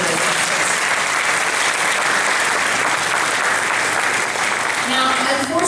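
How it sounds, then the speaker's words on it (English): Audience applause at an Alexandria city council candidates forum, a dense, steady wash of clapping from a full room that holds at an even level throughout. "now you can give them all a round of applause for this"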